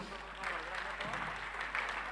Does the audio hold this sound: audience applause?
yes